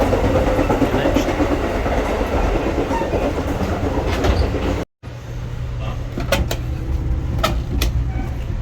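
Downeaster passenger train running on rails between Boston and Portland, Maine, a loud, steady rumble and clatter with rhythmic clickety-clack, a brief dropout midway, then continued rolling with sharper clicks.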